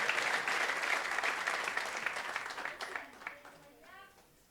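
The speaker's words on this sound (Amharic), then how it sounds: "ካላጨበጨባችሁም አጨብጭቡ" An anniversary church congregation applauds during a sermon, dense clapping that thins and fades over several seconds as a voice begins speaking near the end.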